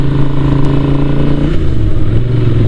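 A customised Ducati motorcycle with Max Torque exhaust cans sends out a loud, close, deep rumbling engine note that dips slightly in pitch midway, steady and without speech.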